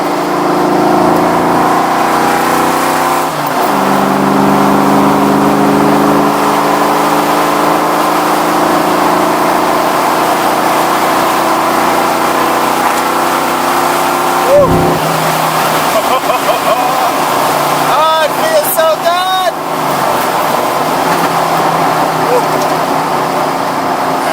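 A car fitted with a 4V engine swap drives along and revs, its steady engine drone rising and falling in pitch near and loud, with a brief sharp burst mid-ride and voices talking over it at times.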